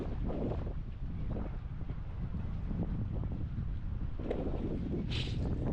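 Strong wind buffeting the microphone at a beach in Schweizerbadet, Haninge, where kite surfers ride, a loud continuous low rumble with gusty swells and no voices.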